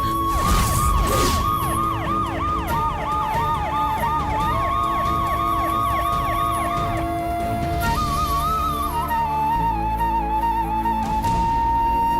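An ambulance siren wails in a fast, repeating up-and-down pattern, loud and close, then changes to a slower tone before fading into steady background noise.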